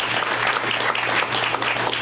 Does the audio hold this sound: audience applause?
yes